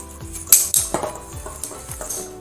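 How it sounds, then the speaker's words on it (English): Epsom salt and table salt being mixed for bath salts, heard as rhythmic clinking and scraping of a utensil against a bowl, close and fairly loud. "Now we will mix everything properly."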